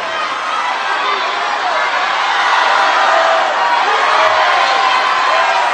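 A studio audience at a Price is Right game show shouts and yells in a dense, sustained roar of overlapping voices calling out a price guess, loud and continuous throughout.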